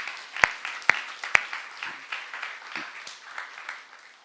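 During a church youth-group sermon, three sharp, close claps ring out in quick succession, followed by fainter, scattered clapping from the congregation.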